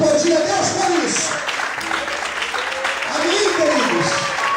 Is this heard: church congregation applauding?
yes